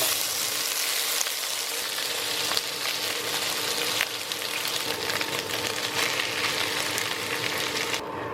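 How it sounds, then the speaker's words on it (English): Chunks of pork fry in hot oil over medium-high heat for carnitas, giving a steady, dense sizzle that stays loud and even throughout, close to the pan, with no voices. "I've gotten all my pork in here and I've been letting it fry up a little bit in this oil"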